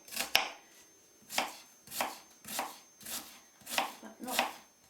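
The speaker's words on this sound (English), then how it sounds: "I'm first going to chop an onion quite finely" A knife chops an onion finely on a board in slow, evenly spaced strokes, about seven crisp cuts, close and clear, with no talk.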